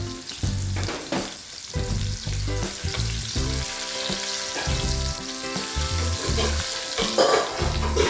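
Mustard, fenugreek and cumin seeds sizzle and crackle steadily in hot oil for a Telugu-style tiffin sambar tempering, close and fairly loud, with low stirring knocks throughout and no talking.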